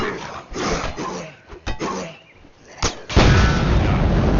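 An explosion goes off in a zombie video game, with a sharp blast near the end that gives way to a loud, sustained rumble. Quieter game noise and a few thuds come first, with faint voice-like sound underneath.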